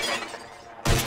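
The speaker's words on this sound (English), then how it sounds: "Whoever shoots more of these bottles wins" A gunshot shatters a glass bottle in a shooting contest in the video game Red Dead Redemption 2, a single sharp burst of breaking glass cutting in after a moment of quiet.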